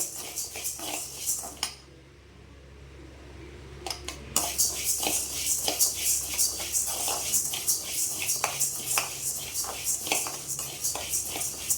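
Urad dal dry-roasts in a pan under constant stirring, giving a rhythmic scraping and rattling of the spoon against the metal. The clatter pauses for a couple of seconds early on, then resumes steadily.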